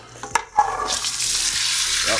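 Seasoned chicken tips into a hot pan for chicken chile verde, a couple of sharp knocks and a splash giving way to a steady, close hiss of sizzling that carries on alone to the end.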